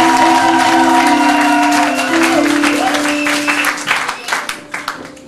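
A church congregation applauds and cheers to acclaim the Lord during an afternoon service, sustained loud applause with tonal music underneath that thins into scattered claps near the end.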